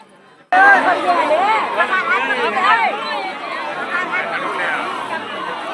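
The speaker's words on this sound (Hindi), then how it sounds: "अब तो क्राउड है खैर महाकुंभ का" Dense crowd chatter from pilgrims at Ayodhya during the Mahakumbh, a loud, continuous babble of many overlapping voices that starts abruptly after a brief quiet moment and holds steady throughout.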